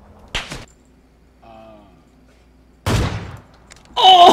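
Sniper rifle shots in the PUBG video game: a sharp burst near the start, a brief faint tonal sound, then two more heavy blasts close together, separated by near silence.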